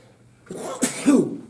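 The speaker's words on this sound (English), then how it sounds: "that was the longest sneeze" One long, drawn-out sneeze bursts out in a quiet classroom, rising to a sharp peak and then trailing off.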